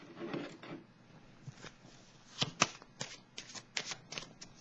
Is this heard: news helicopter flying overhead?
no